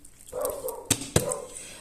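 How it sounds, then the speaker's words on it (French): Small dog barking indoors, a few sharp yaps among softer whimpery sounds, moderately near, with no speech. "il y a mon petit chien qui est en train de aboyer"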